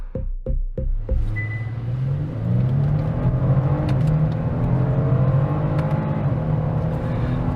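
A Genesis G70 sedan accelerates on a racetrack during a parade lap, a few low thumps giving way to a rising engine note that climbs through the gears, loud and close from inside the car.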